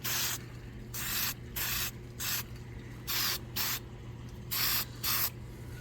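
Spray paint hissing from an aerosol can in a light coat over rust on a scavenged curbside computer case: six or seven short close bursts, each about half a second, separated by brief pauses over a low steady hum.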